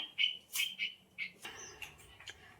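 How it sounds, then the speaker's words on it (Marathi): Several bright, short bird chirps in quick bursts, fairly close and clear, with a few softer calls trailing off near the end. "पक्ष्यांचा किती छान चिवचिवाट सगळा लागलाय ना ऐकू यायला"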